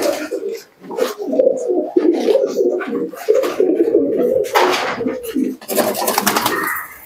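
Desi Giribaz pigeons, including the young of a red pigeon, coo in soft, repeated throaty phrases at close range, with a few brief rustles and a short rise in bird noise near the end.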